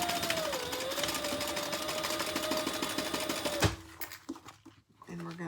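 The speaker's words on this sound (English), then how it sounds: "let's sew the sides closed" A sewing machine runs continuously along the sides of a crossbody bag with a dense, close mechanical whir, then stops abruptly and handling noises follow.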